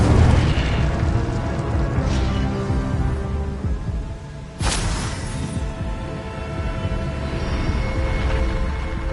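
An Incendio fire spell in Hogwarts Legacy erupts as a loud, rumbling whoosh, with a sharp bright burst midway amid sustained booming combat noise.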